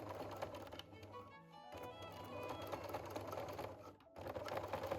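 A sewing machine stitches around the opening of a pair of lady's tailored trousers, a close, steady, fast mechanical whir with a brief pause in the middle and another short drop near the end.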